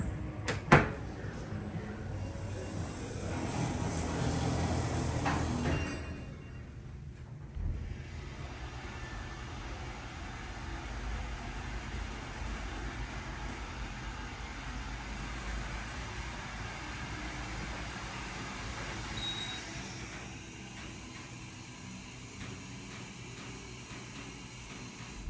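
An Otis HydroFit machine-room-less hydraulic elevator at an Arhaus Furniture store in Woodlands Mall rides with a low, steady hum, preceded by a door thump and a brief louder rumble at the start of travel.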